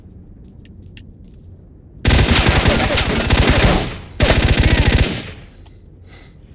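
Loud automatic gunfire in S.T.A.L.K.E.R.: Shadow of Chornobyl, two long rapid bursts of close shots separated by a brief pause, with quiet ambience before and after.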